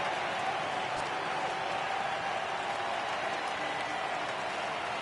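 Baseball video game crowd cheering on a full count, a steady broad wash of applause and roar, constant and moderately loud throughout.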